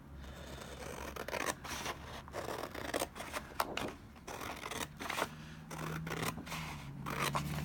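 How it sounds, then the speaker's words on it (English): Scissors cutting out paper pieces for a slanted box craft, repeated crisp snips and rustling paper at close range with short pauses between cuts. "I'm just going to cut these out with my squizzers."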